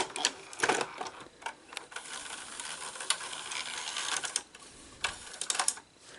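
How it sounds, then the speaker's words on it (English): A cassette tape is pushed into a 711B3 chassis tape deck, giving a series of close, irregular plastic clicks, clacks and mechanical rattles with short pauses between them. "let's put a cassette in"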